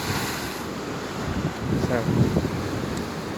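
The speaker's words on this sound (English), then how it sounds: "Just the power of the sea, the power of nature." Rough sea waves churning under strong wind in stormy September weather, a steady loud roar of surf and gusting wind buffeting the microphone throughout, with a brief spoken word near the start.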